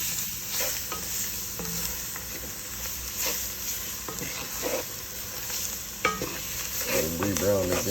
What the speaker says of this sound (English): I'm gonna go ahead and add my veggies to that roux. Stir it up for a minute.